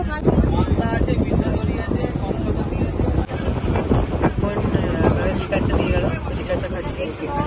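Strong wind buffets a boat on the waters of the Sundarbans mangrove forest in Bangladesh/India, a loud, steady broadband rush with a rumbling undertone that continues without a break throughout.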